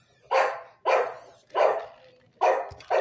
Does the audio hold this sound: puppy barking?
yes